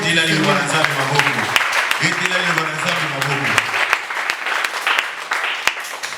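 A church congregation claps and cheers in a sustained burst of applause, with a preacher's voice speaking over the first half before the clapping carries on alone.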